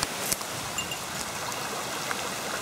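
A small waterfall stream in a tangled bamboo forest along an abandoned farm road in Japan gives a constant soft rushing trickle, with a few faint drip-like ticks over the even flow and no voices.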